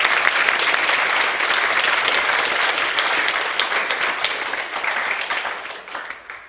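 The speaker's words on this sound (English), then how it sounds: "Let's give those people a round of applause." Sustained applause from a crowd at an entrepreneurs' career day event in Albuquerque, New Mexico, loud and dense throughout, tapering slightly toward the end, with no talk over it.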